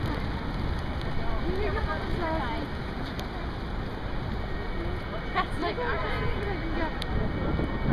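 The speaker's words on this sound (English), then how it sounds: "It started to rain really bad now." Steady heavy rain in New York City hisses across the whole stretch, a dense broadband wash with occasional louder splashes, while faint voices murmur underneath.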